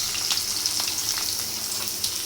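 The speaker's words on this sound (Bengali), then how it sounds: "তেল গরম হয়ে আসছে। এখন পেঁয়াজ কুচি আর কাঁচামরিচ কুচি এখানে দিয়ে" Chopped onion and green chilli frying in hot oil in a wok, giving a steady, close hiss of dense sizzling with small crackles and pops throughout.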